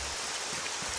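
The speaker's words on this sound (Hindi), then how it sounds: "बारिश अचानक से शुरू हो गई" Steady rain hiss in a Doraemon cartoon, a dense, even wash of falling water that holds at constant loudness through the short moment, with no voices over it.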